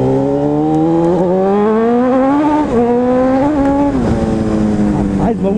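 A Honda CB 1000 motorcycle accelerating hard, its loud, close engine note climbing steadily in pitch, with brief dips at gear changes before it rises again.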